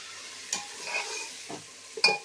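Cumin seeds being stirred in a hot pan while cooking white keema matar, with a few soft stirring scrapes and a faint, low sizzle throughout.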